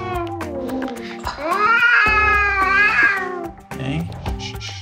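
A Persian cat meows loudly and repeatedly while being handled during a vet examination, with long drawn-out cries rising and falling close to the microphone and a human voice briefly in the background.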